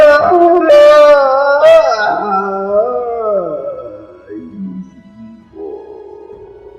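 A person's voice imitates a howling creature with a long, wavering howl that slides up and down in pitch, broken by a couple of sharp breathy bursts, then fades into lower moaning and a final held tone, loud and close.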